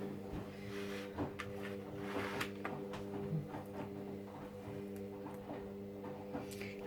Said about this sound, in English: Have to excuse the noise of the washing machine